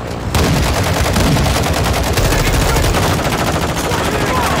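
Sustained rapid automatic gunfire in Call of Duty DMZ, loud and dense, with a continuous machine-gun rattle that starts abruptly and runs throughout.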